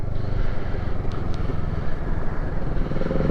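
Kawasaki Z650 motorcycle ridden slowly in third gear, a steady low engine drone mixed with wind buffeting on the microphone, continuous and fairly close.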